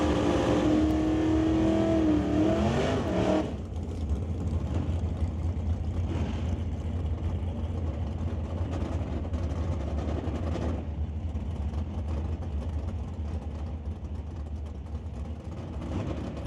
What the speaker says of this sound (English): Rick Green, driving his 1995 O-Stock automatic Mustang